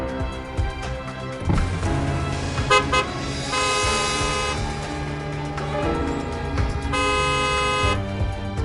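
Car horns honk repeatedly in a traffic jam, with several overlapping toots of varying length over the rumble of road traffic.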